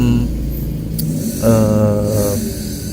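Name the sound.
motorcycle engine idling unevenly, like running out of fuel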